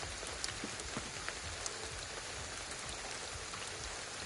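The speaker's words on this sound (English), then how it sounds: "it rains a lot." Steady rain falling in the game Ghostwire Tokyo, a faint constant hiss with scattered drops pattering on surfaces.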